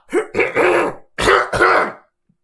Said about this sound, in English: Sorry, just had to clear my throat there.